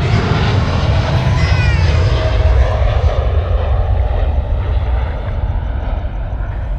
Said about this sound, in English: the All Nippon Airways 789er will be going out as well